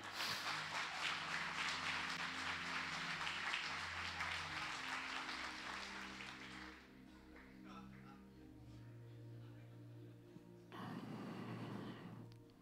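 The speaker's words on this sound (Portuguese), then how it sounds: "Aplausos pro Gão." An audience applauds during a Christian talk: a broad, steady wash of clapping for about six seconds over a sustained musical tone, then it fades, with a short burst of sound near the end.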